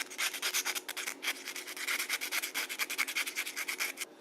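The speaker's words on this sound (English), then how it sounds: "Round file for the inside" A round file rasps the inside of an enduro motorcycle turn signal in quick, rhythmic back-and-forth strokes, close and fairly quiet, with no other sound.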